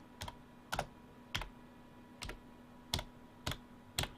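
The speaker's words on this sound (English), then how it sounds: "Sorry about my keyboard, it's a little noisy." Typing on a noisy computer keyboard: seven sharp, separate key clatters spaced about half a second apart, close and distinct over a low steady hum.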